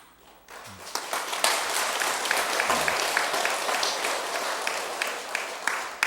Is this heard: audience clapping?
yes